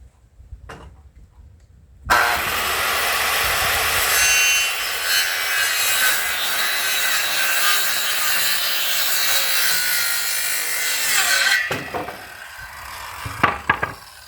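Lumber being sawn for marine boat trailer bunks, a steady continuous cut lasting about ten seconds after a quiet start, close and loud, ending with a few knocks and handling clatter.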